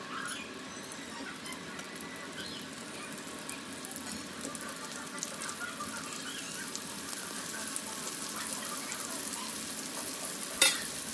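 Stuffed okra frying in hot oil in a pan gives a steady, dense sizzle that runs unbroken and alone, with a faint scrape near the end.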